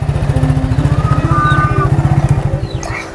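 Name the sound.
motorcycle engine running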